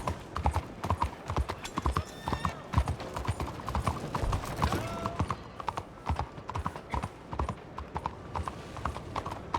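Horse hooves clip-clop at a quick gallop in Red Dead Redemption 2, a close and steady drumming rhythm with a brief whinny and faint background game sounds.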